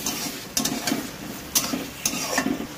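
A spoon stirring Bengali fish curry (jento katla jhol) in a pan after water is added, with soft scraping strokes and light clinks against the pan over a quiet simmering sizzle.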